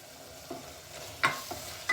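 Tomato masala fries in a pan as mint and coriander are stirred in, a soft low sizzle broken by a few sharp scraping stir strokes.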